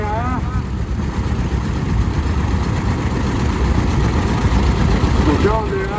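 A John Deere AR, the first diesel John Deere tractor, runs at a steady idle at a vintage tractor rally, its low engine rumble continuous and close throughout with people talking over it.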